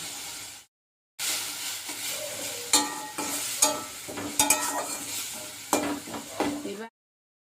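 Ginger paste frying in a pan for a jackfruit and chickpea curry, a steady sizzle broken by several sharp utensil clinks and stirring scrapes, starting after a brief silence and cutting off at the end, no talk.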